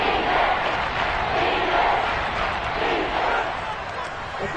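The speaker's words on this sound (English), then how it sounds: "the crowd getting into it as we come up on a big 3rd down" A football stadium crowd roars in a dense, sustained wall of noise ahead of a big third down, loud and continuous throughout, with a voice talking faintly underneath.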